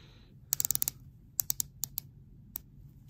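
A ceramic dive-watch bezel on a Hamilton Khaki Scuba ratchets in quick, crisp clicks, close and fairly loud. The clicks come in a fast run, then a few short groups, then one last click.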